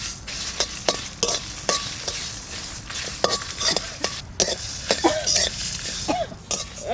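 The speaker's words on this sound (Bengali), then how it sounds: "দুটোই একসঙ্গে দিয়ে দিচ্ছি।" Whole coriander seeds, fennel seeds and black peppercorns with dried red chillies fry in a pan for a village-style duck curry, giving a soft sizzle broken by repeated scraping stirs and light spoon clinks, fairly close.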